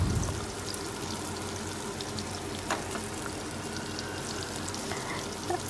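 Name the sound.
raw plantain pieces cooking in a pan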